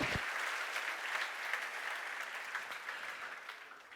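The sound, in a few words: audience applauding the fathers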